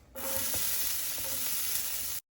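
White onions hit hot oil in a preheated pan with a sudden bright, steady sizzle, close and loud, lasting about two seconds before stopping abruptly.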